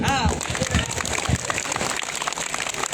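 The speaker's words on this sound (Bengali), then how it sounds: "আমি বুঝতে পারছি, তালি দিয়ে বুঝাই দেন, সবাই তালি দেন" A crowd at an outdoor political rally for a BNP candidate in Joypurhat, Bangladesh, bursts into a short round of dense clapping that fades within seconds, with voices mixed in.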